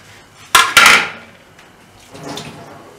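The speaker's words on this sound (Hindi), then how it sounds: "पहले मछली को मैंने डाल दिया, उबला हुआ पानी में डाल दिया।" Rohu fish dropped into a pot of boiling water in a home kitchen, making two quick close splashy clatters followed by a softer bubbling stir, with no talking.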